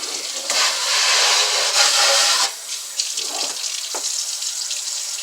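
Tap water runs into a kitchen sink as onion and vegetables are rinsed, a steady loud splashing stream for a couple of seconds, then softer trickling and small splashes.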